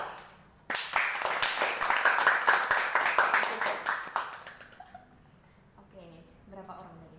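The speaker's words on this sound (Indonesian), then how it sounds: "Siapa nanti tepuk tangan yang paling keras itu dia yang akan menang." A group of volunteer trainees clap hard and fast together as a vote, a loud burst of dense, rhythmic claps lasting about three seconds, then talking follows.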